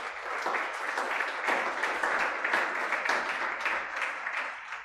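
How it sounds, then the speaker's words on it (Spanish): A church congregation claps steadily during a service, a dense wash of many hands at moderate loudness with a few sharper individual claps, continuing without a break. "Den un aplauso al Señor."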